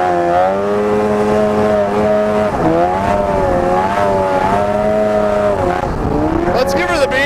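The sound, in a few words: snowmobile engine and loud exhaust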